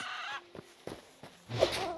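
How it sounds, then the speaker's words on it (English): Chickens and cockerels in the Hytale video game cluck in short, repeated calls, several close bursts with a louder squawk near the end, no talking over them. "Chickens, cockerels."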